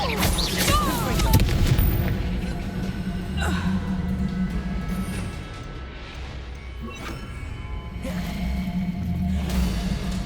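Confringo blasting spells exploding in Hogwarts Legacy, several booming bursts and crashes in quick succession over a dense bed of combat noise, with a man calling out spell names between the blasts.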